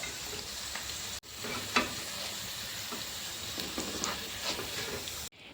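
Kerala style prawns sizzle and crackle steadily in hot oil in a pan, a close, continuous frying hiss with small pops, briefly interrupted near the start and end.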